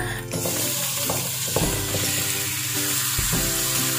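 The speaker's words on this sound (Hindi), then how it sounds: "तेज आंच पर हमने इसको एक दफा अच्छे से फ्राई करना है" Marinated chicken frying in a kadhai over high flame, a loud continuous sizzle with periodic stirring scrapes, no talking.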